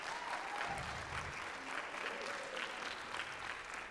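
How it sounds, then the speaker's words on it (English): Steady applause from a church congregation, dense and continuous throughout, with a faint voice or two under the clapping. "they're clapping because I gave them food for the last 2 days"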